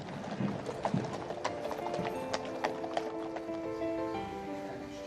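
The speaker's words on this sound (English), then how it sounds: "This is the Lifeguards drum horse, Achilles." Hooves of a large Shire drum horse of the Life Guards clopping at a steady walk on a hard surface in Knightsbridge, with a low rumble of background activity.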